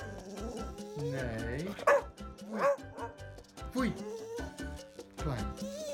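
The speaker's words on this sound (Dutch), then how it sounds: "Niet blaffen." An elderly English Cocker Spaniel barks and yips repeatedly at close range in short irregular bursts with whimpers between, while a person speaks to it in Dutch.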